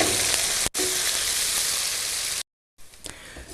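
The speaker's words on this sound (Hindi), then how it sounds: "तो इन्हें हमने फ्राई करना है इतना कि ये लाइट गोल्डन हो जाएं।" Roughly chopped onions frying in hot oil toward a light golden colour give a loud, steady broadband sizzle that briefly cuts out, then returns more quietly and unevenly.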